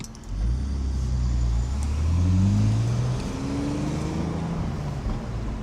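A V8 car engine revs close by with rising and falling low rumbles, swelling to a peak midway and then settling into a steadier idle-like drone.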